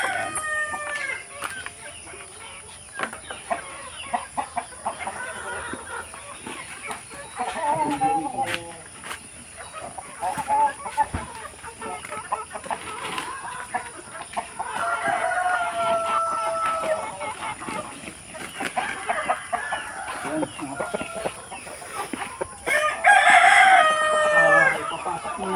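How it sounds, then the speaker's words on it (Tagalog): Many chickens cluck continuously inside a farm pen, with roosters crowing at intervals, some near and some farther off. People talk now and then over the flock. "Muna natin ito kasi dami mga manok"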